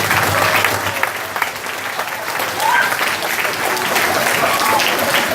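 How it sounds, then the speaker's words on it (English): Audience at a weekly house meeting claps a round of applause on a count, a dense, sustained burst of many hands that swells and holds for several seconds. "go ahead and give them a round of applause on 3."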